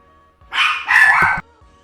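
A dog gives two short, close barks in quick succession, loud against an otherwise quiet room with a faint steady hum.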